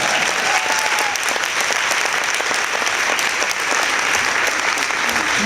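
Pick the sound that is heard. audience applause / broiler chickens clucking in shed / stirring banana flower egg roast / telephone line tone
audience applause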